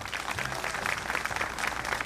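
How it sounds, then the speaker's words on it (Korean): Rally crowd at a labour union protest applauding a union chairman after his speech, a brief burst of dense, steady clapping with a slight rumble beneath. "결의에 찬 투쟁의 말씀 해주신 김종일 위원장 동식께 다시 한번 힘찬 박수"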